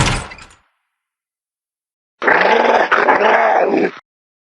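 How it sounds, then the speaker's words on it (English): Dogs in Fortnite growling, a short burst first, then after a silent gap a louder, sustained rough growl lasting nearly two seconds with brief breaks. "Go away, you howling beasts!"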